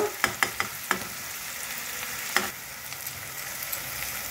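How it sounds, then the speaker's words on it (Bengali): Mushrooms and onions frying in a pan for mushroom paneer dopyaji, a soft steady sizzle with a handful of sharp spatula clicks and taps early on, close but fairly quiet, no voices. "দেখুন মাশরুম আর পেঁয়াজ একটু ভাজা ভাজা হয়ে এসছে"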